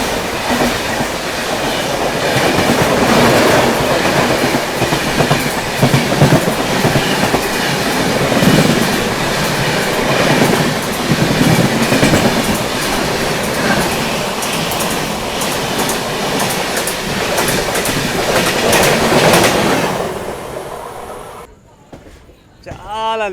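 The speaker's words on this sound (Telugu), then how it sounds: "వందల కొద్ది ట్రైన్స్ వస్తుంటాయి పోతుంటాయి." A long train runs along a busy main railway line on a route carrying services toward West Bengal, Bihar and Delhi, passing close by in rain with a steady loud rumble and clatter of wheels before the noise drops away abruptly near the end.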